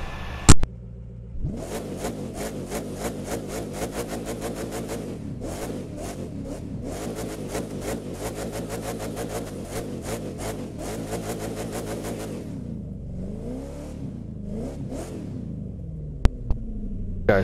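McLaren P1 supercar with a loud exhaust in the racing game The Crew 2, revving hard in long sustained bursts with sharp drops between them, then settling to a rougher idle near the end.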